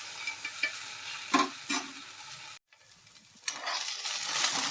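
Okra frying in oil in a pan for a chutney, a close, bright sizzle with stirring scrapes, briefly cut off, then returning as a steady, louder crackle, with no voices.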